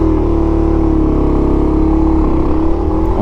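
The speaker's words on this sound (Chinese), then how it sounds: "用3档的怠速跑" A QJMotor Race 250 motorcycle rolls along at idle speed in third gear, its engine giving a loud, steady low throb with a rapid pulsing beat, close and uninterrupted.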